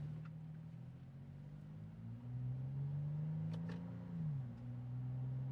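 Engine of a Toyota 4Runner TRD Pro in first gear. It hums low and steady, rises in pitch as it revs, then dips again. A couple of faint clicks sound near the end. No one speaks.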